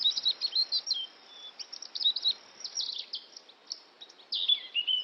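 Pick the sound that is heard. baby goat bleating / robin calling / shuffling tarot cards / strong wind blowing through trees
robin calling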